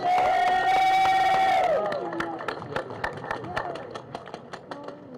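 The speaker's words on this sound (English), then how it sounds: "Round of applause, please, for Ms. Williams" At a Justice for Jayland Walker press conference in Akron, a loud sustained shouted voice gives way to a crowd clapping in uneven bursts with scattered cheers and voices.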